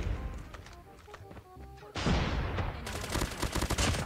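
Call of Duty gunfire from an M13 rifle with a mythic skin: fast, dense automatic bursts that grow louder and more continuous in the second half, with a voice talking faintly underneath.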